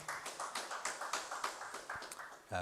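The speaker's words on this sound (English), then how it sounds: "A round of applause, ladies and gentlemen" Applause from an audience at a graduation ceremony for a Uganda Sign Language program cohort, a steady patter of clapping hands heard at a moderate distance, fairly soft, ending in a brief bump of noise.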